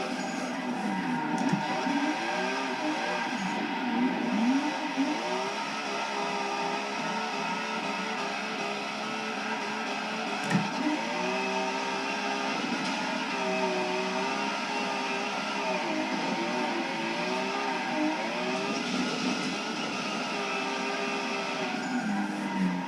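A car engine drones and revs steadily in a drifting simulator game played on a Thrustmaster TX racing wheel, a continuous mid-level whine with wavering pitch as the revs rise and fall through the laps.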